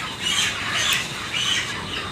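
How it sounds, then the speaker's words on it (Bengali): Thirty-day-old broiler chickens on a poultry farm squawk loudly and continuously as they are caught, in overlapping harsh cries. "মুরগি ধরে আনতেছে"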